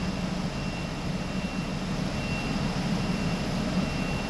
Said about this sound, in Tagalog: i-test natin ang kanyang misfire because malakas ang kanyang palya